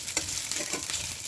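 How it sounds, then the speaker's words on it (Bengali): Whole pointed gourds fry in mustard oil in a wok, giving a close, dense, steady sizzle with soft crackles throughout. "পটলগুলো ভেজে নিচ্ছি"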